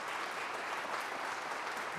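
An audience at an annual report meeting applauds the board and staff. The clapping is dense and even, with many hands together, and sounds fairly distant and soft.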